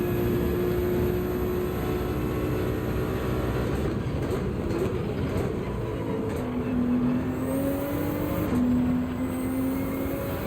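Ferrari race car engine from Gran Turismo 7 racing at Road Atlanta, a steady engine drone with rising and shifting tones across gear changes, loud and continuous with no talk.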